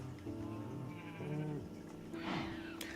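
Sheep in the Minecraft video game let out a few wavering, nasal bleats one after another, moderately loud and clear over a faint background with no talking.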